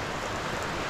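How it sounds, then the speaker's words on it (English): Rain falls as a steady, faint broadband hiss, an even wash of drops with no voices. "you can't even see the rain, I don't think. Probably hear it."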